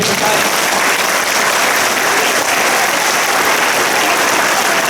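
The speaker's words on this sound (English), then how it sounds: "Can we give the children a big round of applause?" Loud, continuous applause from an audience at a school sports assembly, a dense even roar of clapping filling the room with no pause.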